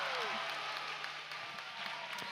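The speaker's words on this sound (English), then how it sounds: "you can see them just jumping up and down, cheering there" An arena crowd at a BlizzCon 2013 esports finals match roars and applauds, a broad sustained wash of cheering heard at a distance beneath an announcer's voice.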